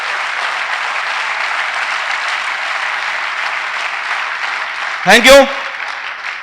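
An audience at a motivational talk gives steady, sustained applause. A single voice briefly says thanks as the clapping fades.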